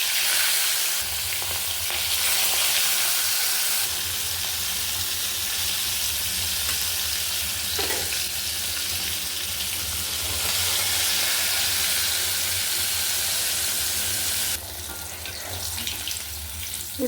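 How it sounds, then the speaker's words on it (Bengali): Fish slipped into hot oil and frying steadily, a loud close crackling sizzle that runs continuously with slight shifts in intensity and no talk. "তেল আমাদের গরম হয়ে গেছে, তো মাছগুলো দিয়ে দেবো"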